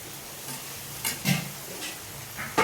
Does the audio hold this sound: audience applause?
no